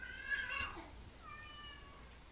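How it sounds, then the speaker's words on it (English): An indoor house cat meows twice, thin and fairly quiet, with a short pause between the calls. "can you hear Sam meowing"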